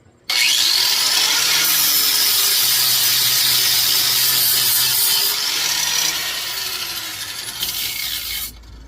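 An angle grinder fitted with a flat disc grinds paint off an axe head, a loud continuous abrasive whine and rasp that starts abruptly, holds steady for several seconds, dips slightly, then cuts off.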